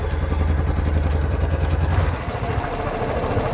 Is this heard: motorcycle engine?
yes